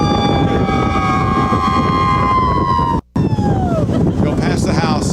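A loud siren wails with long falling tones, briefly cutting out, then continuing amid steady traffic rumble.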